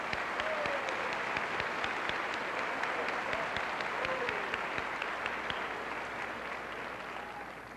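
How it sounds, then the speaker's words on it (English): A high school graduation audience gives school corporation employees a round of applause, sustained clapping with a few sharper nearby claps and faint whistles that tapers slightly at the end. "Let's give these folks a round of applause"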